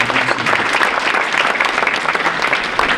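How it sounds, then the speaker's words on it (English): Enthusiastic audience applause for a high school dance team at a fall varsity sports awards event, a loud, continuous wash of many hands clapping throughout. "Just want to give them a round of applause for their participation in"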